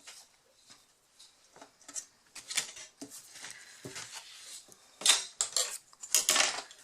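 A blade cuts paper for a handmade vintage scrapbook notebook box, heard as a close, quiet string of short scrapes, ticks and taps with irregular gaps, louder near the end.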